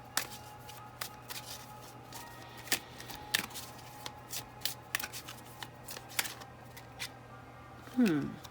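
Angels and Ancestors oracle cards being shuffled by hand, a series of sharp riffling snaps and soft slides in an irregular rhythm, close and fairly quiet, with a brief scraping rustle near the end.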